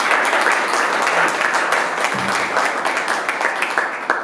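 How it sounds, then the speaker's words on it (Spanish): An audience at a panel discussion on cinema and diversity applauds: dense, even clapping from many hands fills the whole stretch at a steady loud level. "Les pido un aplauso"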